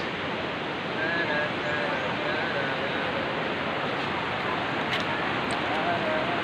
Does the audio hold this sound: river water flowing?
yes